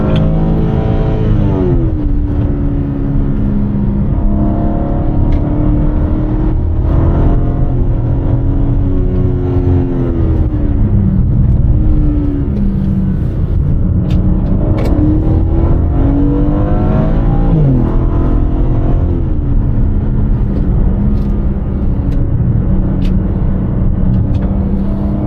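BMW M4 cars on the Desert Palm Circuit track, engines loudly and continuously revving and accelerating close by, pitch climbing and shifting through gears with several rising sweeps, no voices.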